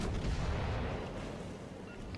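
Secondary battery guns of the KMS Tirpitz battleship booming in World of Warships Legends, a dense rumbling barrage of artillery fire filling the short stretch.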